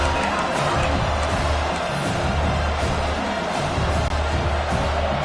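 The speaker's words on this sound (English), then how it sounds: "this home crowd is fired up and ready to make a difference today" A large crowd roars steadily throughout, a dense wash of cheering that never lets up, like a packed stadium heard from the stands; a home crowd in the college football video game NCAA 26, Washington vs Ohio State.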